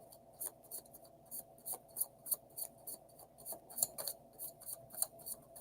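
Tarot cards are shuffled by hand in an untidy, uneven way, producing repeated soft riffling snaps and clicks close by with a faint background hum.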